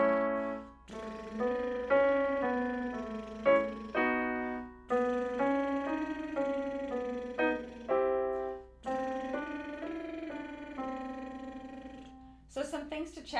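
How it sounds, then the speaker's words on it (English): A singer performs a lip trill warm-up on a do-re-mi-re-do scale, a buzzing, pitched lip vibration climbing and falling in several repeated phrases with short breaths between, close and steady. "So let's start with our first lip trill."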